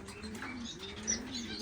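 Birds in a home bird room where finches are kept and breeding, soft coos and occasional faint chirps over a steady low hum, with one brief louder call.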